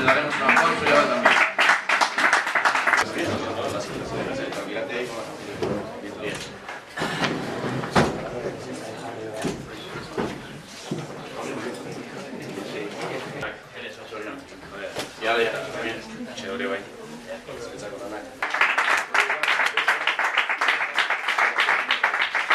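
Hands clap in a dense burst from an audience at a prize-giving ceremony, followed by a stretch of talking, then another close, lively round of applause near the end.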